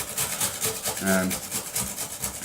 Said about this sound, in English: So we need to grate down 3 of these, which we're just about done, and we'll grate them down.